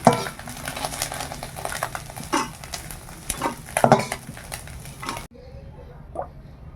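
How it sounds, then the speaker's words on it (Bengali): Oil sizzles steadily in a pan as small tengra fish fry, with intermittent scraping and clinks of a utensil, then the frying drops away near the end leaving a quieter scrape. "মাছগুলো ভাজা হয়ে গেছে ভালো করে, এবার তুলে নেই।"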